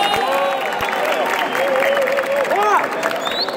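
An audience at a trap-edition rap battle claps and cheers steadily in a dense, continuous wash of applause with shouted voices mixed in.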